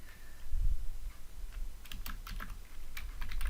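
Rapid typing on a computer keyboard, close and fairly quiet, with bursts of clicking keystrokes and short pauses between words.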